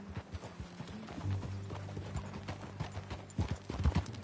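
A horse's hooves clip-clop at a steady trot in the video game Red Dead Redemption 2, the hoofbeats clear and fairly close, the rhythm picking up toward the end, with a faint bed of ambient sound and a soft snort or two.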